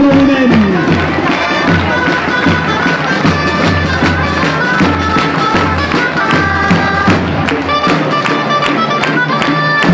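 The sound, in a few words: crowd applauding the Sant Pol giant bearers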